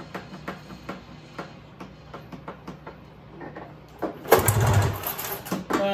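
A Ski-Doo 377 Scandic two-stroke snowmobile engine is cranked with a series of evenly spaced loud pulls, then catches and briefly roars louder before sputtering down and reviving at the very end.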